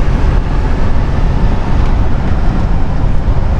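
Steady ventilation and air-conditioning blower inside a Mercedes GLE 350d six-cylinder diesel on the move, a constant broadband hush with low road rumble beneath, unbroken for the whole stretch.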